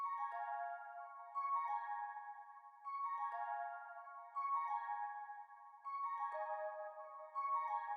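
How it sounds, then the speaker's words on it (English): An 80s-style arpeggiated synth melody for a vintage RnB sample, bright repeating note patterns in steady phrases that restart about every one and a half seconds, moderately loud and alone. "They like to use a lot of like these ARP cool sounds that sounds like this."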